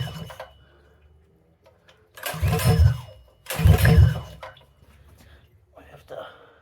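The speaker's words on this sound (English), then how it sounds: "I don't know if it's gonna pull over or not." A Predator 212 small engine is pulled over from cold: two loud rasping bursts of a recoil starter cranking, separated by a short pause, with quieter handling noise and faint talk around them.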